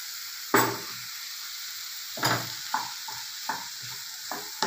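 Kashmiri chili powder being stirred into a frying peanut vegetable curry: a steady hiss of sizzling oil broken by several distinct scraping stir strokes of a spoon against the pan, close and fairly loud, no voices.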